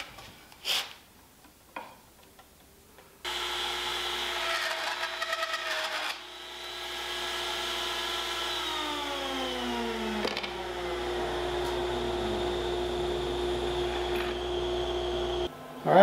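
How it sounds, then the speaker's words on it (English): A router table spinning a quarter-inch bit whines steadily as it cuts a dado for a tray bottom, starting after a few sharp knocks and holding a loud, tonal hum with shifting pitch before it cuts off near the end. "I'm going to use this same setting to cut the dado for the bottom in the tray"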